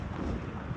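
Wind gusts across a park on a windy 19-degree day, buffeting the microphone in a brief, steady low rumble with no pauses.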